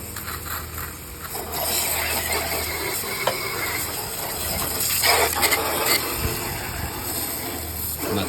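A pressure washer sprays debris downstream while cleaning outdoors, giving a steady broadband hiss and rush of water throughout, with a motor drone underneath and a few louder bursts where the jet strikes surfaces.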